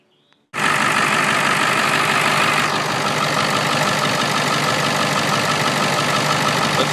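A diesel engine with knocking injectors, before a high-pressure oil crossover is fitted, starts abruptly and settles into a loud, steady idle with a dense clattering rattle, close and continuous.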